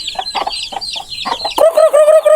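Chickens that have wandered into a farmhouse kitchen cluck close by in short, choppy bursts, then one bird lets out a louder, drawn-out call.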